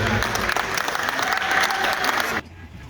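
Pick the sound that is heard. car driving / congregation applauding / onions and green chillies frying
congregation applauding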